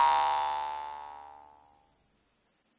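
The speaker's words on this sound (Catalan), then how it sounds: "Grill, per què rius al cau? Ric, ric, ric" Cricket chirping as a sound effect in a children's puppet song: a fading tone gives way to a steady series of short, bright, evenly spaced chirp bursts, clear and alone.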